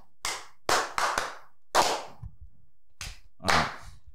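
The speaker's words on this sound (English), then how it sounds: "Give him a clap. Give him a clap." A few scattered, sharp hand claps from a small group in a podcast studio, applauding guests. They come as separate bursts with short gaps, fairly close and loud, and no one speaks.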